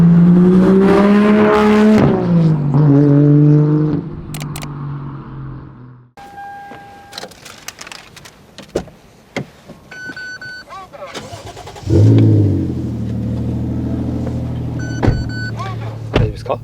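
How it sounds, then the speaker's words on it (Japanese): A Toyota Crown Athlete JZS171 revs loudly, then goes quiet amid clicks and cabin noises before its engine settles into a steady idle. People talk throughout. "早速この車試乗行ってみましょうかね"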